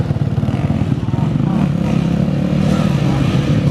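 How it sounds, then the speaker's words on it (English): Motocross bikes line up at the start gate of a British veterans championship support race, their engines burbling and revving loudly and continuously close by, with a voice faintly audible beneath. "Take their position at the gate for one of the support races."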